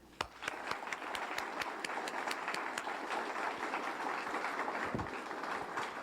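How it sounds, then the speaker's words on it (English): Sustained audience applause fills an auditorium for recipients at a 1988 civic service awards ceremony, steady dense clapping lasting the whole stretch with no voices over it. "I'd like to ask you a big round of applause for all the recipients this evening."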